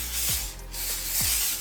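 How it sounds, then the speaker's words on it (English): Hairspray is spritzed lightly onto a textured, layered synthetic bob wig in a few short, airy hissing bursts, close up with brief pauses between them. "So I'm just going to spray it just a little bit"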